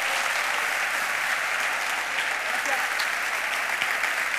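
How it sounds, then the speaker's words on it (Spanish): Loud sustained applause from a carnival crowd greets a murga troupe's presentation, a thick continuous roar of clapping hands that holds steady at full strength throughout. "Fuerte el aplauso para Arawimer."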